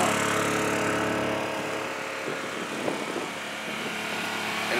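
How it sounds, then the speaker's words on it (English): Honda EU2000i inverter generator running steadily inside a baffled quiet box with a scouring pad over the exhaust, a constant moderate engine drone with no talking. "It's been running for about 15-20 minutes now and it really hasn't even gotten hot yet"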